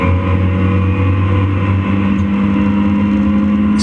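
Scott Parkin's red Seat race car passes at Donington, its engine a loud, sustained roar with a shifting pitch as it goes by, heard alone without voices.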